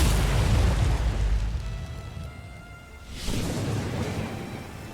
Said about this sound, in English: The sky crackles with thunder.